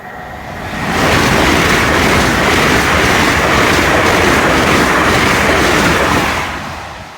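A train roars past close by at a level crossing, a loud steady rush with rhythmic clatter of wheels on rails, swelling in and fading out over several seconds.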